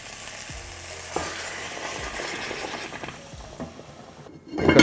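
Whole onion, crushed garlic, cherry tomatoes and bay leaves sizzle and fry steadily in a hot pan alongside braised short rib, with occasional stirring scrapes and a louder clatter near the end.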